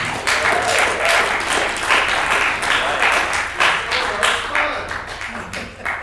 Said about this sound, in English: it's great to hear people clap and people cheer and have a good time in the movie